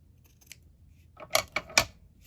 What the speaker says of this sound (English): now I was thinking if I could cut the strip